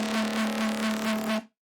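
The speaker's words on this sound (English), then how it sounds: "the way that we're achieving the sound is using this peak distortion" Distorted bass synth tone for jump-up drum and bass, produced by peaking one frequency with EQ or a filter and then distorting it, with a strong steady low note and a gritty pulsing upper buzz that stops abruptly.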